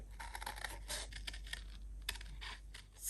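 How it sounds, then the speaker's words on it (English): Scissors fussy cutting a paper image, giving a quiet series of irregular snips and crisp paper rustles at close range with no talking. "just fussy cutting this image"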